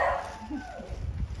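A dog gives a short bark and a whimpering yip nearby, brief and moderately loud against quiet surroundings.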